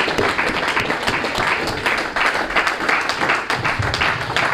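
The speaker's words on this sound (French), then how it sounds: "Nous pouvons acclamer très fort notre Seigneur" Congregation in a church applauding and cheering loudly, dense continuous clapping with voices mixed in throughout.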